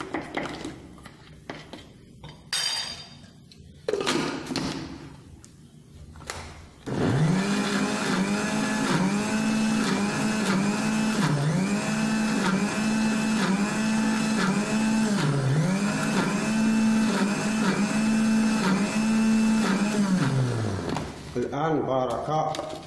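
A blender grinds almonds and argan oil into amlou, a loud steady whirring drone held for about fourteen seconds with slight dips in pitch, after a few knocks and handling sounds at the start.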